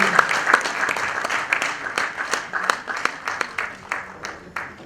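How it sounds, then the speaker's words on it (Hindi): An audience gives loud applause for a family at a stage performance, dense crowd clapping with sharp individual claps standing out, sustained throughout at close range. "जोरदार तालियां इस परिवार के लिए जिन्होंने इतने साल"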